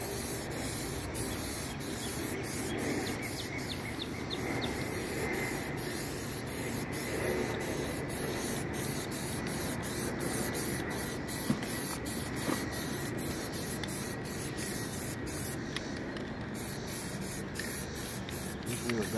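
Plasti Dip coating sprayed from an aerosol can onto the wheels of a 2018 Ford Explorer, a steady close hiss running through the whole stretch with brief breaks between passes.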